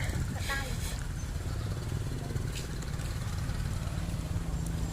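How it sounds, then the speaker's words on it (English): A large bus-like tuk-tuk drones past on a street near an old market, its engine a close, steady rumbling putter over windy background noise. "There's a nice big bus-like tuk-tuk."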